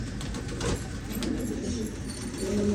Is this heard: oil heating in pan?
no